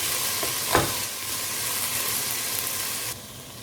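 Bell peppers and garlic fry in a pan for a tiepe, giving a steady, close hiss of sizzling with one brief stirring knock early on before the sound drops away near the end; no one speaks.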